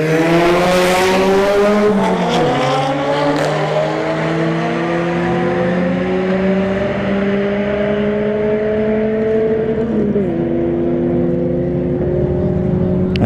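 A drag race between an Audi S3 and a Honda Civic EJ9 at Bradenton Motorsports Park, with loud engines howling through rising revs and several sharp gear shifts, the combined roar continuous and close throughout.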